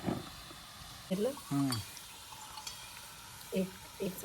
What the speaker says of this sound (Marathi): गऱ्यांना व्यवस्थित आपण दोन्ही साईडून अलटून पलटून कुरकुरीत होईपर्यंत फ्राय करून घेणार आहे.